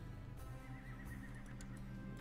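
A horse neighs in the Crusader Kings 2 video game, a loud whinny of about two seconds with a few hoof clops beneath it and no talking.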